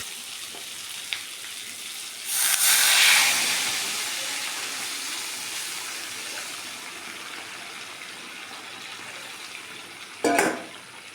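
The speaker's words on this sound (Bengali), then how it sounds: "এবার এর মধ্যে দিয়ে দেবো গরম জল।" Hot water is poured into a pan of fried spice masala, setting off a loud rushing hiss that slowly fades into a steady simmering sizzle, with a clank of a utensil near the end and no voices.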